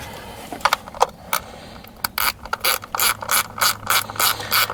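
Rapid ratchet clicking up close while snugging a coil pack bolt on a Chrysler 200 3.6L V6, a few hesitant strokes at first, then steady back-and-forth bursts of ratcheting with no talk.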